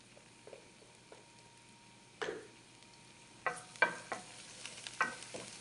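Red pepper flakes sizzle faintly in a hot pan while being stirred, with soft frying hiss and a few sharper scraping stirs near the end, fairly quiet and without talk.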